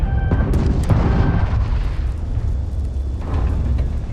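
Ship weapons fire and booming explosions during space combat in Starfield: heavy, rumbling blasts with sharp cracks early on, then a sustained low roar, all loud and close.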